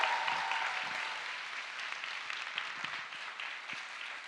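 Steady applause from an audience, a dense wash of clapping that gradually fades slightly over several seconds.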